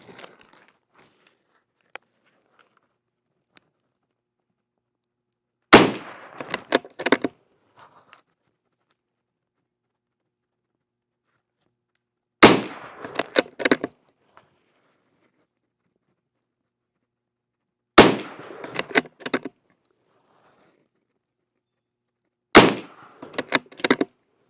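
.22 pistol shots fired in a match string out in four separate quick bursts of several sharp cracks each, the groups spaced apart by quiet pauses, with no talking.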